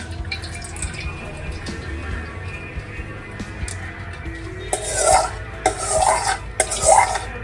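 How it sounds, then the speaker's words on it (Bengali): Oil left from frying onions is poured into a large pot for Kolkata biryani, with low clattering and stirring at first, then several louder splashy gurgling pours near the end. "সেই তেলটা আমি দিয়ে দিচ্ছি এর মধ্যে"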